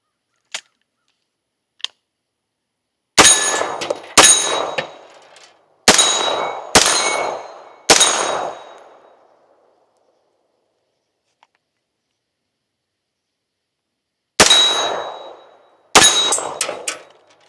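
A Daniel Defense 9mm pistol-caliber carbine fires single sharp shots outdoors, each answered by a ringing clang from steel targets that fades over a second or two, in two spaced groups of reports.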